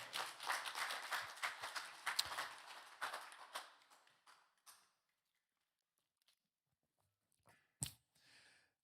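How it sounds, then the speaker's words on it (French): A church congregation at a Sunday celebration claps together, a dense burst of applause for about four seconds that quickly dies into near silence, followed by a few scattered, isolated claps. "J'aimerais entendre un grand applaudissement à ceux qui le croient."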